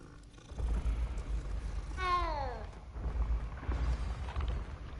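A cat in the Hogwarts Legacy video game gives one short, descending, meow-like call over a low, steady game ambience.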